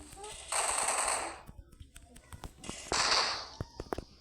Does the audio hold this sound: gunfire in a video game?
yes